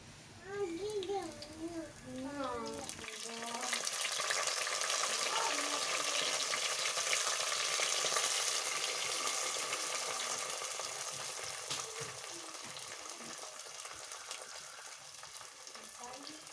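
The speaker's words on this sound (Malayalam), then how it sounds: "വെളിച്ചെണ്ണയിൽ അധികം കടുകൊന്ന് പൊട്ടിയതിന് ശേഷമാണ് പച്ചമുളകും അതുപോലെ തന്നെ ഇഞ്ചി ചെറുതായി കട്ട് ചെയ്തിട്ട് അതും ഇട്ട് കൊടുത്തിട്ടുണ്ട്" A loud, steady sizzle of green chili, ginger and mustard seeds frying in coconut oil in a clay pot starts abruptly after a few seconds of soft talking, then continues alone, fading slightly toward the end.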